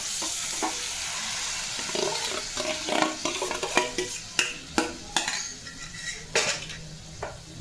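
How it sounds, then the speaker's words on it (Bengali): A metal spoon scrapes and clinks against a pan while stirring spice masala fried in oil for a prawn and elephant-foot-yam curry, steady frying sizzle beneath sharp irregular knocks, close and clear. "এই মশলাটা কষানো হয়ে গেছে আর তেলও ছেড়ে দিয়েছি। এবার আমি এটা এরম দিয়ে দেবো।"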